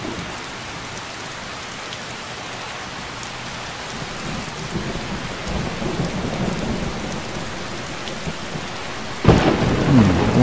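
Steady rain falls through a thunderstorm in Skyrim, a broad wash of downpour that swells midway before a sharp, loud thunderclap breaks in near the end and rumbles on; a voice says a single word briefly.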